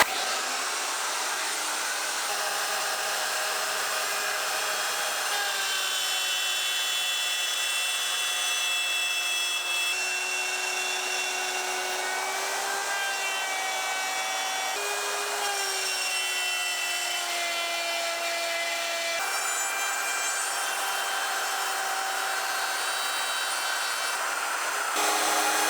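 A router mounted in a router table cuts through wood with a loud, steady high-pitched whine, shifting slightly in pitch as the bit bites, sustained close up with no talking.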